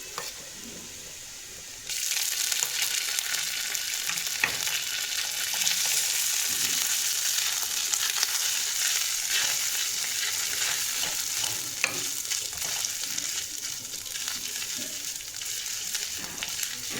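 Ginger paste dropped into a pan of browned garlic for a jackfruit curry, sizzling loudly and steadily once added, with stirring scrapes throughout and no talking.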